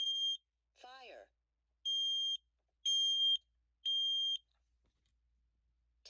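A collection of smoke alarms sounds in a test: three long, loud, piercing electronic beeps in a steady rhythm, with a brief burst of voice-like chirping near the start and a faint beep at the end.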